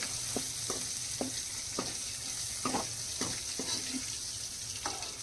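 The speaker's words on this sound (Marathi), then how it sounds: "ती पण आपण आता फ्राय करून घेऊया थोडीशी फ्राय करून घेऊया" Capsicum frying in a pan for a homemade veg pizza: a quiet, even sizzle with a series of sharp spatula taps and scrapes spaced about half a second apart. No one talks.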